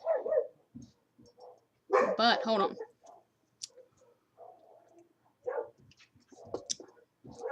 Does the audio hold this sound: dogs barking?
yes